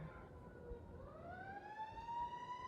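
Emergency vehicle siren wailing far off in a quiet neighborhood, a faint rising tone that climbs steadily over a low background hum.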